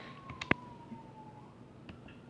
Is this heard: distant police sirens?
yes